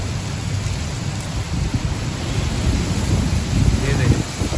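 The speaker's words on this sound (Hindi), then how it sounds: "कितनी तेज़ बारिश हो" Heavy rain pours steadily during a storm, a dense, loud, continuous hiss and patter close by, with a faint voice in the background.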